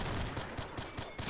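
Rapid gunfire in the Combat Arms shooter game, a dense burst of repeated loud shots in quick rhythmic succession, alone without talk.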